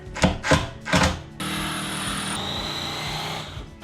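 Three short pulses of a power drill, then a continuous whirring run as a screw is driven in, close and fairly loud.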